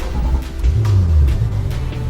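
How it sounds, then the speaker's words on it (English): A Porsche 911 GT3 RS engine starts up at the Nürburgring, a close, loud burst of low rumbling that swells and holds briefly, with no talking. "Starting up the GT3 RS on Nürburgring."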